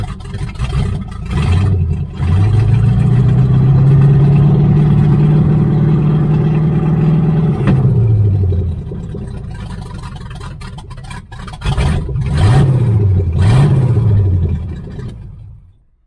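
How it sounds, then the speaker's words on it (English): A 1978 Chevrolet Nova V8 roars steadily close by with a deep rumbling, very loud exhaust, then drops back to idle before a couple of revving bursts. "The exhaust is so friggin' loud."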